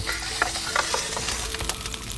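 Fondant potatoes sizzling in a pan inside a wood-fired oven, a steady close crackle broken by scattered sharper pops and clinks.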